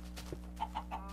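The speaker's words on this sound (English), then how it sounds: "chickens" Chickens in the Minecraft video game give a few short, quiet clucks in quick succession over a steady low background hum, with no voices.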